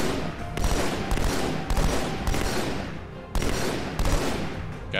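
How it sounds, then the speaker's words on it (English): Turret gunfire in Halo 2: Anniversary rattles out in several sustained bursts of rapid shots, loud and close, separated by brief gaps, with no talking over it. "Oh, they got turrets too."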